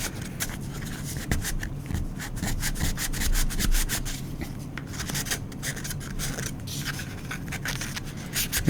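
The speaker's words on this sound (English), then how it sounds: "I'm going to use a finer grit sandpaper to polish these surfaces a little bit after I rough them up here." Sandpaper rubs steadily over plastic parts of an old Star Trek model kit, a close, continuous scratchy rasp that runs throughout with small shifts in pressure and no talking.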